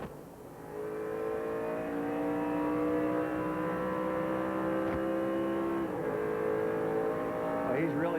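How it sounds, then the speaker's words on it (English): A 1995 Busch Series race car engine at the Lysol 200 drones with strong harmonics, its pitch stepping down as it slows and gears down, then rising again, with commentary talk faintly alongside. "he starts to slow down and gear down, heads into the interlude"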